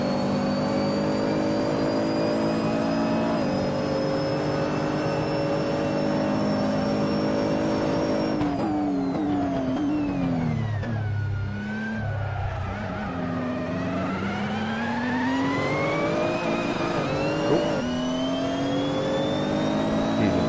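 A loud race car engine in Assetto Corsa screams continuously at high revs during a hotlap, the pitch dropping and climbing as it shifts and brakes.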